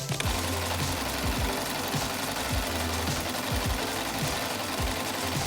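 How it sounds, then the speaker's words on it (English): A sewing machine stitches fabric for a doll dress, its needle hammering in a fast, steady mechanical rhythm with a continuous motor hum, close and alone. "You can ask an adult to help you with the sewing machine"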